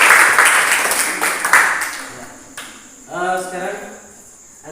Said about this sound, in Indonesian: Oke, tepuk tangan kelompok 2.